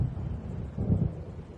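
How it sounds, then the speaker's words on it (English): A deep, muffled rumble of thunder from an approaching storm in the video game Alan Wake Remastered, rolling low and swelling briefly before fading, without speech. "It seems there's a storm coming."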